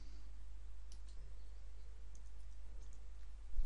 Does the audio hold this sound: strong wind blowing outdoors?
no